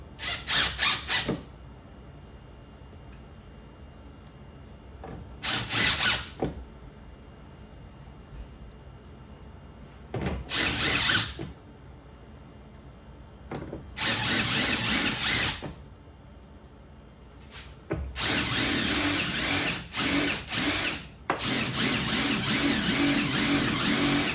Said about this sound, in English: didn't drill that hole well enough